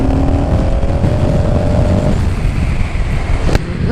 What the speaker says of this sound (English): This is a stock exhaust, so I'm very happy with the sound of it. It sounds nice.